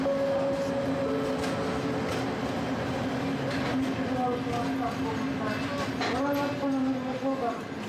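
A train at a railway station in Kazakhstan rumbles steadily with rhythmic clacking and a faint metallic squeal, loud and continuous, while voices murmur in the background.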